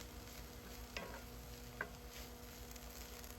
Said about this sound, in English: nice and sizzling here